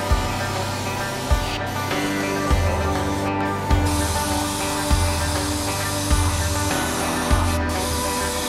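A spray gun hisses steadily as it lays satin black paint onto a car crossmember during a Corvair front suspension rebuild, with a dense continuous roar and a regular soft pulse about every 1.2 seconds.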